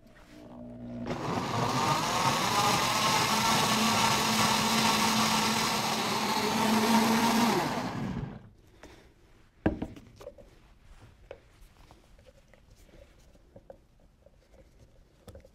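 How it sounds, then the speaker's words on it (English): A blender runs on low speed mixing peanut butter, a loud steady whirring drone for about seven seconds before cutting off, followed by quiet clicks and a single sharp knock. "we're gonna blend it on low speed for about 1 minute"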